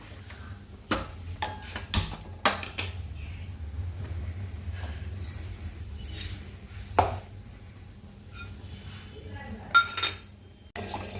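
Half a bowl of sugar is stirred in a pot while it caramelises for a coconut rabdi, giving close, repeated metallic clinks and scrapes of a spoon against the pot, with a few sharper knocks scattered through.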